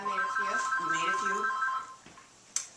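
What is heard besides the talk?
telephone ringing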